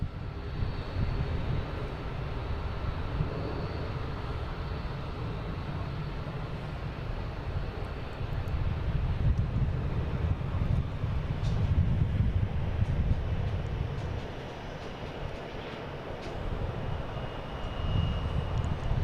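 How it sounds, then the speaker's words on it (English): A Delta Airbus A330 jet lines up on runway 33 at Boston Logan, a steady low engine rumble holding from start to end with mild swells, heard from a distance with no talk. "We have a Delta A330 lining up on 33"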